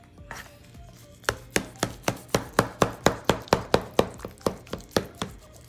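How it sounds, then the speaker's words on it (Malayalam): A knife slices through a baked beef lasagna in a steady run of about fifteen crisp, evenly spaced cuts that thud against the pan or board, close and clear with no talking. "ഇതാണ് ലസാനിയ കട്ട് ചെയ്യുന്ന രീതി."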